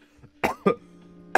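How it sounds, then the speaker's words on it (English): Three sharp, close coughs in quick succession with a brief throat sound before them, loud and dry, over faint background music from a game. "You see how I started coughing?"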